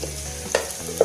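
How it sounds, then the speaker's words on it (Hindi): Ingredients for a garnish, including onion, sizzle in hot oil with a soft continuous frying hiss and a couple of light stirring clicks, close and fairly quiet with no talk. "तो थोड़ी सी फ्राई करके ना इसमें बाहर निकालेंगे"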